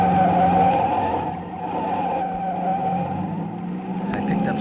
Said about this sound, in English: I whipped my wheel to the right and skidded onto a bridge.